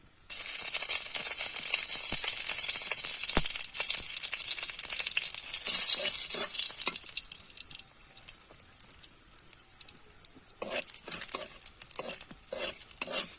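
Dried red chillies and cumin seeds hit hot oil for village-style ghugni and crackle in a loud, steady sizzle, which settles into quieter frying with rhythmic spatula scrapes and stirring.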